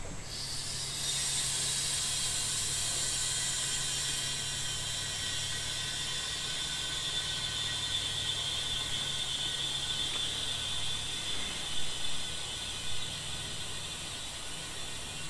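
A refrigerant can hisses steadily as it recharges a car's contaminated AC system after vacuum and flush, a continuous close, even rush of gas with faint mechanical whirring and no voices.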